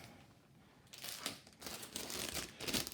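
Scissors cut open a heat-sealed plastic bag holding the sprues of a Tamiya 1/35 Dragon Wagon model kit, giving close, soft crinkling and crisp plastic rustles in a few bursts.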